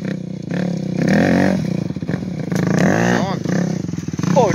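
A motorcycle engine revs loudly with rising and falling pitch sweeps as riders pull away on a go-kart track, staying up close with people talking over it.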